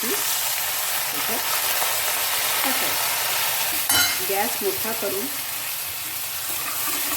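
Mustard seeds crackling and sizzling in hot oil in a kadhai for a dal tempering, a continuous bright frying hiss with a few stirring clinks partway through and someone speaking briefly over it.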